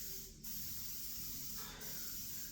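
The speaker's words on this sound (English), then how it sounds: "I'm just going to spray my springform pan here" Cooking oil spray hisses onto a springform cake pan in two continuous bursts, a close, steady aerosol spray with a brief gap between them and no talking.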